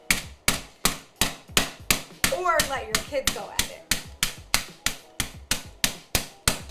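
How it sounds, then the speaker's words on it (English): A kitchen hammer pounds meat thin between sheets of parchment paper for chicken fried steak, striking in a steady, quick rhythm of about two blows a second. A voice briefly speaks partway through. "Grab a kitchen hammer, meat pounder, I don't know, and just go at it."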